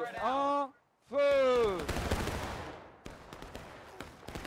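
A sharp, loud crack of a musket volley fired by a line of soldiers in the War of Rights game rings out and echoes away, right after a shouted order.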